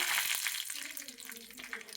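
Dried red chillies and mustard seeds frying in hot coconut oil for a Kerala erissery, giving a steady, close crackling sizzle with small pops throughout, faint talk underneath.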